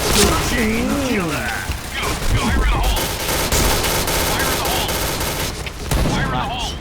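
Rapid bursts of gunfire from the online shooter Point Blank, dense volleys and chattering automatic fire with sharp cracks, loud and close, while an excited voice talks over the action.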